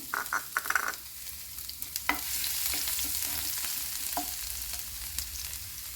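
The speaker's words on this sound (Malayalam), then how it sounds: "എണ്ണ ചൂടായിട്ടുണ്ട് ഇതിലേക്ക് ഇഞ്ചി വെളുത്തുള്ളി അരിഞ്ഞത് നമുക്കിതിലേക്ക് ചേർക്കാം" Chopped ginger and garlic dropped into hot oil: a few clattering scrapes at the start, then a dense, bright sizzle that holds steady and close, broken by occasional spoon knocks, with no voices.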